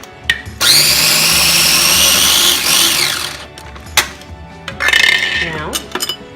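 A blender whirs loudly as it mixes chopped garlic and cheese into pesto. It runs for a few seconds, stops with a clink, then gives shorter pulsed bursts, with a voice heard faintly between them.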